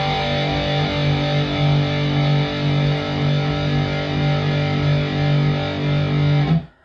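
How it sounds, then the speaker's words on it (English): Overdriven electric guitar through a Tube Screamer-style pedal, a steady sustained distorted chord ringing loud and alone for several seconds before cutting off abruptly at the end. "And it's with distortion."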